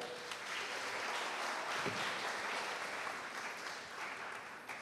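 An audience at an international poetry night applauds, sustained clapping from a full room that holds steady for several seconds, then begins to thin toward the end.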